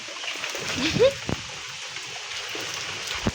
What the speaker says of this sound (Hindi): अचानक से बारिश आ गई है